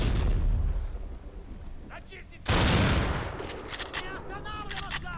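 Rapid gunfire from the shooter game Black, with dense bursts of shots that swell into a loud, sustained barrage halfway through, under and between brief spoken words.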